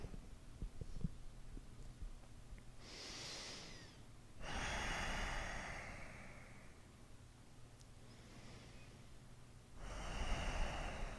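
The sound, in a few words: slow deep breathing during yoga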